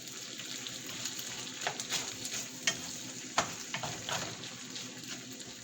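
Garlic shrimp sauté in butter over medium-high heat, a faint, steady sizzle broken by soft scraping and several sharper clicks of a utensil stirring the pan.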